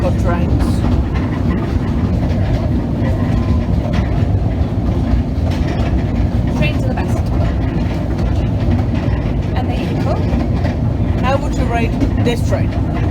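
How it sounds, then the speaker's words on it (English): A passenger train rumbles steadily along the rails in Wales with constant low-frequency roar and faint clattering, while people talk over the noise throughout. "This is a pretty good train."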